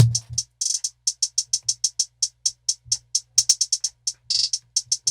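Crisp, bright 808 hi-hat ticks in a fast, uneven trap pattern, panned left then right, alternating bursts and rapid rolls over a faint low thump.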